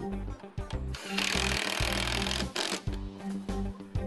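A power tool drives screws to fasten a steel roofing panel during installation, with short bursts of whirring mixed with rattling contact against the metal panel, close and fairly loud.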